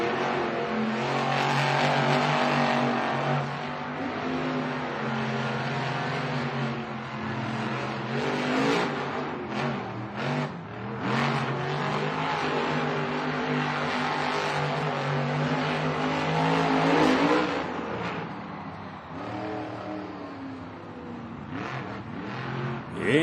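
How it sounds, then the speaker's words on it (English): Monster truck engines revving hard in a stadium at a Monster Jam event, a loud sustained roar with rising and falling pitch as the trucks rev at the start line, no talk. "as you hear those engines rev and the lights turn yellow"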